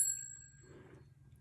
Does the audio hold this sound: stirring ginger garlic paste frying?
no